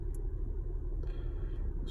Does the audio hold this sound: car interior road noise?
yes